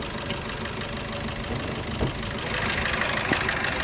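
A 2016 Maruti S-Cross idles with a low battery charge, a steady close engine rumble with faint knocking texture that grows slightly louder partway through, with no talking.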